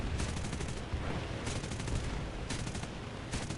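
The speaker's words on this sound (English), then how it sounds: "A20 trying to use his back gunners to get him." Rear gunners on an A20 bomber in a flight combat game fire in bursts, rapid rattling volleys recurring every second or so over a steady engine drone.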